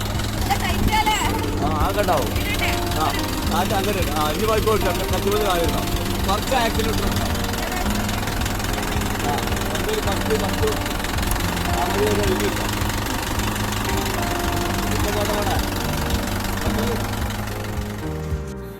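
A tractor engine in a paddy field runs continuously with a low, throbbing chug and steady mechanical rattle, loud and close throughout.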